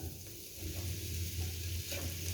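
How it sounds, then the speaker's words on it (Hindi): Mashed potato is stirred together with turmeric and crushed coriander in a pan. Soft scraping and stirring sounds run over a low, steady sizzle, close and quiet, with no talking. "इन सारी चीज़ों को अच्छी तरह मिक्स कर लेंगे।"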